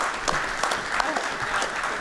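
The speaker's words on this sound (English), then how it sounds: "So a round of applause for all of us doing this work all the time" Applause at a panel discussion closing the 2024 Ashe Juniper Symposium, a steady wash of clapping from the audience at moderate level with some voices mixed in.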